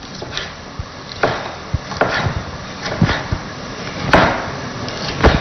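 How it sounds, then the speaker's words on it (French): Knife chopping bell pepper into fine sticks on a wooden board: a series of sharp, irregular wooden taps close by, spaced unevenly across the stretch with no talking. "Poivron que je vais découper"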